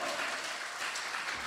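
An audience claps together in a short, dense burst of applause that stays even and somewhat distant the whole time.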